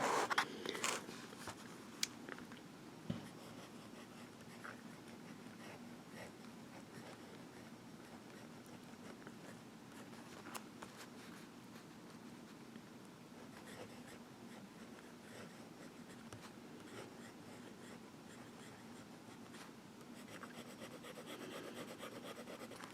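Visconti Mirage fountain pen nib scratching across Rhodia dot grid paper, faint close-up rasping strokes with a few small taps and rustles near the start, then a quiet continuous scritch.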